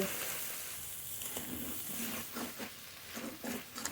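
Water lily and shrimp fry in a pan with a soft, faint sizzle, while a spatula stirs them in short, uneven scraping strokes.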